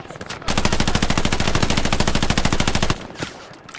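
Automatic gunfire in the World War II shooter Hell Let Loose rattles in one long, rapid burst of tightly spaced shots, loud and close, lasting a couple of seconds before dropping away.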